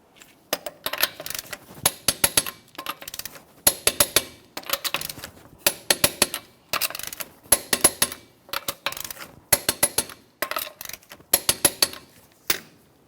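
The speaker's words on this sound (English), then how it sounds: "we'll torque these in a crisscross manner." Torque wrench clicking repeatedly as sway bar link nuts are tightened on a 2004-2005 Nissan Titan, sharp ratcheting clicks in short bursts of several, close and clear with no talking.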